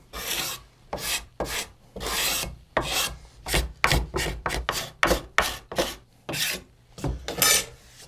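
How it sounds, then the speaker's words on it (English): Glue residue is scraped off a wooden guitar neck scarf joint with rapid, rasping strokes, about fifteen close, loud scrapes in an uneven rhythm, with no talking. "A little bit of glue residue off of this side."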